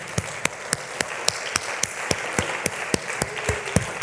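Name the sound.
church congregation applause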